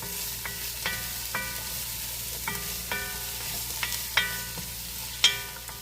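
Vegetables seasoned with salt and pepper sauté in a soup pot for chicken soup. A steady low sizzle runs throughout, and a spoon clinks with a ringing note against the metal every second or so, with no talking.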